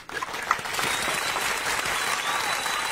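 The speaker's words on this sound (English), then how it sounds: "I love the applause. It's a lot." A studio audience welcomes a guest, a NASCAR driver and Navy officer, with a quick burst of applause, a dense wash of clapping that begins suddenly and holds steady throughout.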